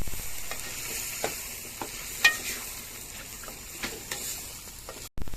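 Sarson ka saag being stirred in a cooking pan, soft spoon scrapes and clatter over a low steady sizzle, a few sharper knocks, ending abruptly.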